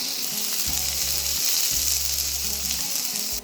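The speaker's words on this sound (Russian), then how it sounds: "Половину высыпаем в разогретое растительное масло." Diced onion dropped into hot vegetable oil sizzles and fries in a pan, a loud, steady crackling hiss over soft background music, with no talk.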